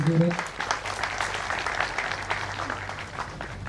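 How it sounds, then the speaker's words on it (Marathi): An audience applauds at the Mayor award 2024 ceremony as an education officer is honoured, a moderate spread of clapping that carries on steadily with a voice heard over it. "जरा टाळ्या वगैरे"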